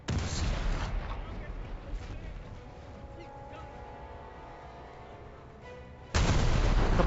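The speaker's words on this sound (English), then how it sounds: "Airstrike there, coming in on that cruiser." Heavy explosions from an airstrike pounding a cruiser in War Thunder naval combat, a loud rumbling burst at the start, a sustained low roar of distant blasts and gunfire, then another sudden loud impact near the end.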